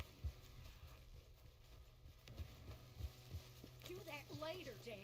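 Horse hooves clip-clop at a walking pace in a video game, soft and fairly quiet, with scattered irregular steps; a voice talks briefly near the end.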